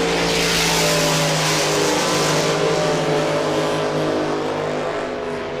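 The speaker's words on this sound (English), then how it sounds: "it is running a 480 cubic inch long supercharged engine" A supercharged 480 cubic inch engine in an 18-foot racing boat runs loud and steady on the course, a sustained deep roar with a slight fade toward the end.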